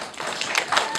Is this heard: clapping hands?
yes